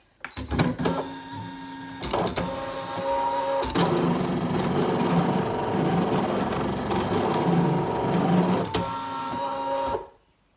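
A Brother ScanNCut cutting machine cuts a 2-inch circle, giving a steady, close mechanical whirring with sharp clicks and clunks at the start and at intervals, running for about ten seconds before stopping abruptly.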